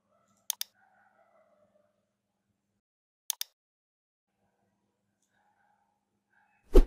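Mouse clicks in computer software come in two quick double clicks several seconds apart against near silence, with faint background murmurs between them.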